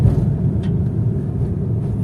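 Steady low engine rumble and road noise from a Honda Brio RS car driving on a mountain road climb, continuous and fairly loud, with no talk.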